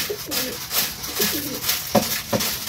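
Pigeons at a pigeon farm in Meherpur coo in several soft, low rolling calls, close by, repeated across the moment with brief pauses and no talk.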